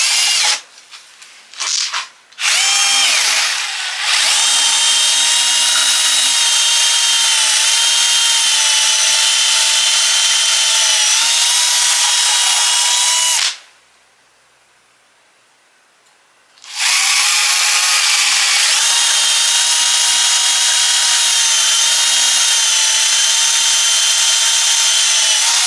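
A power drill with an extra-long bit bores deep holes through wooden legs, running loud and steady with a few brief starts, then a three-second pause before the drilling resumes.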